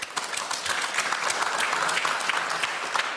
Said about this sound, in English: people are clapping that, right?